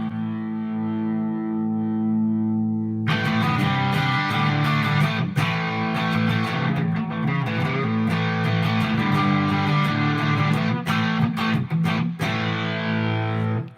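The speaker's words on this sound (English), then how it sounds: "let's throw in a little aria distortion here" Electric guitar played through an Aria distortion pedal: a held clean chord first, then a thick, saturated, sustained distorted tone with strummed hits and dense harmonics, loud and steady throughout.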